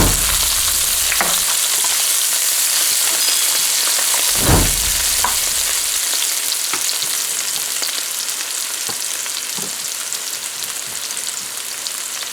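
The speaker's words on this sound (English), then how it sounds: "So you want to fry this up for a little bit." Onions, celery and scallion frying in a pot, a steady close sizzle with a few thuds and stirring scrapes early on, then a dense hiss that eases slightly.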